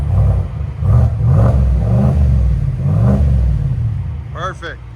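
A 6.2L V8 in a fifth-generation Cadillac Escalade fitted with a Flowmaster Flow FX exhaust rumbles low and steady, swelling in repeated surges as it accelerates, with a brief squeal near the end.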